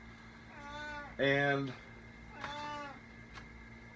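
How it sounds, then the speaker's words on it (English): A pet cat meows three times indoors, the middle call loudest and longest, while a person talks over the background. "If you hear some meowing in the background, that was my cat"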